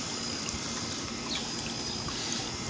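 Continuous trickling and splashing of water running into a backyard pool, an even, moderately loud flow with faint bright droplet sounds and no talking.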